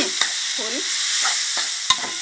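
Half a kilo of chicken with seasoning and roasted bamboo shoots stir-fried together in a pan, constant bright sizzling under a handful of sharp spatula clicks and scrapes spaced irregularly, close up with no talking.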